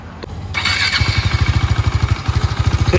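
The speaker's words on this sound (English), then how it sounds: "তো এখন বাইকটাকে ফার্স্ট গিয়ারে দিয়ে শুধু ক্লাচে গাড়িটাকে এগোবে" A motorcycle starting up and running in first gear, a steady close, loud, pulsing engine thrum with rapid even firing beats after a brief mechanical click and hiss.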